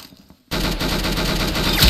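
Gunfire in the Roblox game Arsenal, a sudden loud, continuous burst of rapid shots that starts after a brief quiet moment and keeps going to the end.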